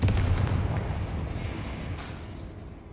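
Confringo spell explosions in a Harry Potter video game, a loud booming blast with a rumbling tail that decays steadily over three seconds, with no voices.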